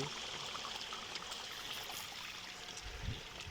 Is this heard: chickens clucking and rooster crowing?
no